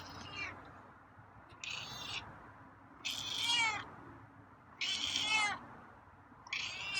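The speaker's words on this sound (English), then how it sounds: "Meows are coming, huh?" A cat meows repeatedly, about five drawn-out cries spaced a second or so apart, close by over a low background hum.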